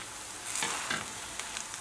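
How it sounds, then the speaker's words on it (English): Mushroom caps fry in butter in a pan, giving a soft, steady sizzle with faint crackles and a light stirring scrape, heard close up at low volume with no talking. "and they're frying in the butter."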